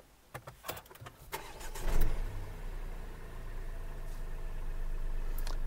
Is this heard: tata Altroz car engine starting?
yes